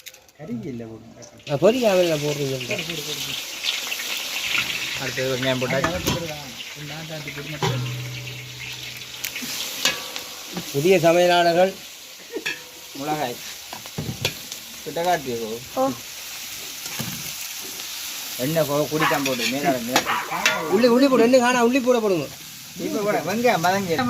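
Onions frying in a pan for a home-cooked birthday meal, a soft sizzle and stirring under a person talking at length, with brief pauses in the speech.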